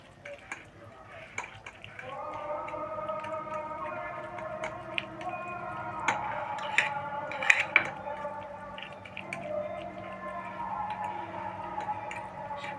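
A utensil stirring a dish in a pot with a little vinegar added, producing soft squelching and intermittent light clinks and taps against the pot, near and quiet, with a low hum and some talking underneath.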